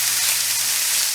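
Onions fry in a hot pan with a steady, close, dense sizzle that holds evenly throughout, with no talking.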